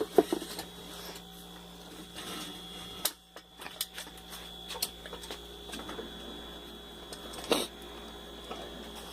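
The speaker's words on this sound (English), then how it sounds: "Now I'm just gonna thread it back up." A boat trailer jack is threaded back together after greasing, producing irregular close metallic clicks, ticks and scraping clatters with a couple of sharper knocks, with no talk over them.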